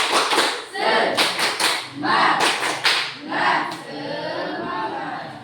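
A class of schoolchildren beats out the rhythmic Indonesian 'tepuk semangat' spirit clap in a classroom, loud clustered bursts of hand claps in a patterned rhythm with voices chanting along throughout.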